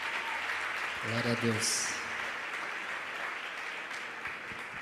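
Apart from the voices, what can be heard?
applause from church audience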